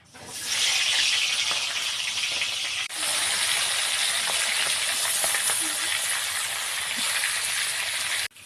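Fish sizzles in hot mustard oil with a loud, bright, continuous frying hiss that briefly drops and surges back about a third of the way in, then cuts off at the end.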